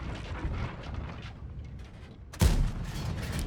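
A Leopard 1 tank cannon in World of Tanks fires a single sudden, loud blast, followed by a sustained rumbling tail over steady background engine noise.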